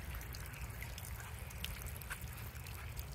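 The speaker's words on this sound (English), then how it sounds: "We have a leak. That seal is not tight enough." Water leaking from a loose seal on a pool filter in a pond conversion setup, a steady faint trickle and dribble with a continuous low wash, no talking.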